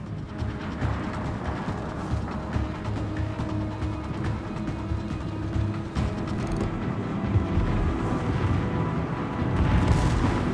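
An enemy battleship explodes in a naval battle game as a deep, rumbling roar of blasts and booming gunfire that swells and persists, growing louder toward the end.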